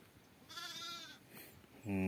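A single wavering bleat rises midway, followed by another brief animal call, with faint background noise, from sheep and lambs out grazing in open country.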